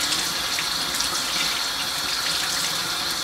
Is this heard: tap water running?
yes